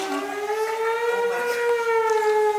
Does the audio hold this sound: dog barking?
no